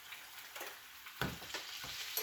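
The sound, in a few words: steaks sizzling in a pan while being basted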